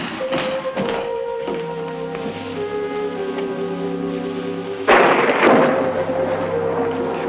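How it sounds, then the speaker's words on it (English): A storm's thunder rumbles and rolls through a busy, tonal background, with a sharp loud crack partway through that then trails off into a lingering rumble. "Thunder and lightning."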